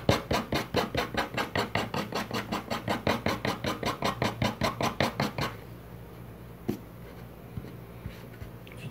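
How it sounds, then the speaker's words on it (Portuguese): Sandpaper rubs the small edge of a paper-covered scrap decor box in fast, regular scratchy strokes, close and loud for about five seconds, then stops and leaves near silence with a faint knock. "Vamos pegar a nossa lixa e vamos então, ó, venho aqui na borda, na quina da peça"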